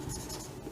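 Chalk or a pen scratching steadily across a board during a physics lesson on refraction, a continuous short stroke heard close and fairly loud with no talk over it.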